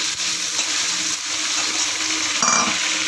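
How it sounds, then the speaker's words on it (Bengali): Shrimp and potato fry together in a pan with mustard oil and cumin seeds, giving a loud, dense, continuous sizzle that swells slightly toward the end. "এরপর চিংড়ি মাছটা দিয়ে একটু ভেজে নেব।"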